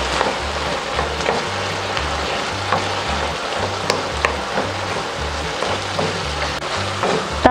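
Chicken stirred in a frying pan with soy sauce, a steady close sizzle and crackle with soft scraping and stirring noises running throughout.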